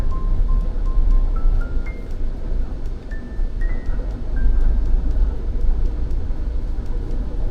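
Chery Tiggo 7 Pro pulling away in eco mode, a steady broadband engine and road drone heard from inside the cabin, with faint rising tonal whine and small clinks over the continuous rumble.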